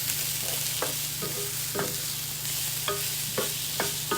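Onion stir-frying in a pan for Guyanese chowmein, a steady close sizzle with periodic scraping knocks of a utensil stirring the pan, no talk.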